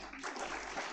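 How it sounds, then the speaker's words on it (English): Applause at a graduation ceremony: a brief, faint patter of many hands clapping, heard from a distance in a large hall. "Can you give applause for them?"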